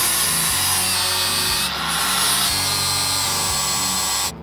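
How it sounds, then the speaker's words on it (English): An electric grinder whines loudly and continuously as it cuts away rivets on a 1957 Chevy Bel Air. The motor pitch pulses in a regular once-per-second rhythm before it stops abruptly at the end. "Time to grind my rivets away."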